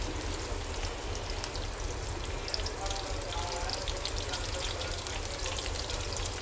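Onions and green chillies sauté in a pan for a Tamil dried-fish curry, giving a steady, dense sizzle and crackle that runs unbroken at moderate volume throughout.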